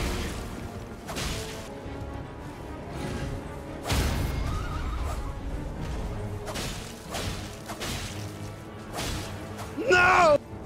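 A horse neighs in a video game, a loud whinny near the end amid whooshes, hoofbeats and crashing game effects, with no talk over it.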